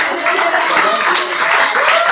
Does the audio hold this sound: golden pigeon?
no